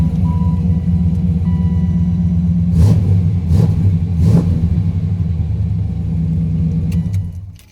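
A 1995 Chevrolet Impala SS engine idles with a deep steady rumble, then revs briefly three times in quick succession before settling back and cutting off at the end.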